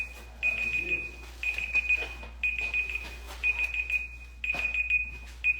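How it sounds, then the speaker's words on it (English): A beeper goes off indoors, sounding as a steady series of shrill electronic beeps in regular bursts, moderately faint with no talk over it. "I'm hearing a beeper going off."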